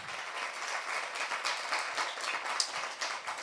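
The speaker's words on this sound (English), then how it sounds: "Let's give everyone another hand clap." An audience at a community program event applauds steadily, with dense continuous hand clapping throughout at moderate loudness.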